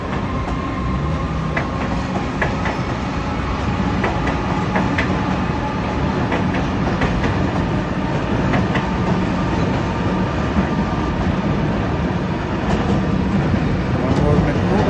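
A metro train passes on local railway tracks near a sports ground, a loud continuous rumble with rhythmic clickety-clack from the wheels that fills the whole stretch, while a voice speaks now and then.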